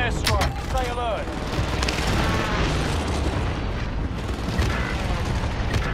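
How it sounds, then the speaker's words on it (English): Precision airstrike explosions in Call of Duty: Modern Warfare, a dense continuous rumble of booms and blasts, loud and sustained throughout, with game voice chatter over the top. "Enemy precision airstrike, stay alert."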